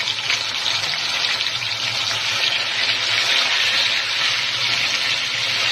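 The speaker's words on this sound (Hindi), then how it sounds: "और अब इसमें पानी डाल कर छोड़ देंगे।" Water pours steadily into a pot in a continuous splashing gush, close and fairly loud, with no talking.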